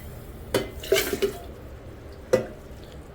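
A Rooh Afza and sugar mixture is poured into a jug of water in a home kitchen, giving a few short splashes and clinks of utensils close by with quiet pauses between them.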